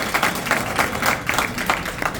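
A small crowd claps at a trophy presentation during a rooftop kite-flying tournament in Kanpur. Short bursts of hand claps come in uneven pulses, close and moderately loud, with no speech over them.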